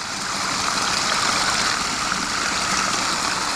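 Water from a homemade backyard waterfall flows in a steady, close, continuous rush with no pauses, unbroken by any voices.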